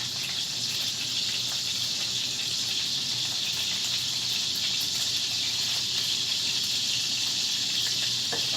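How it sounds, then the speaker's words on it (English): A hot skillet, about to receive three cans of drained corn for a Sunday dinner, sizzles steadily and fairly loudly with a bright, even hiss that carries on unbroken with no voices. "My skillet telling me it's ready for the corn."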